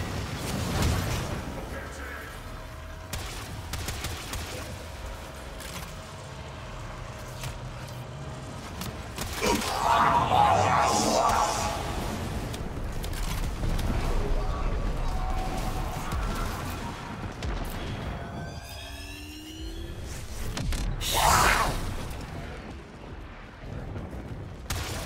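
A warhead salvo and weapon fire aboard a Corpus Railjack in Warframe, with the Lavan Glazio weapon: booming blasts, crashes and mechanical creaks rolling over a dense, loud battle din, with a few rising whistling tones and in-game voices mixed in.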